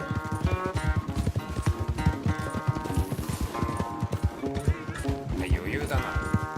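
A horse gallops in a race in Red Dead Redemption 2, its hooves drumming in a fast, rhythmic clip-clop that stays close and steady, with game music and voices talking over the hoofbeats.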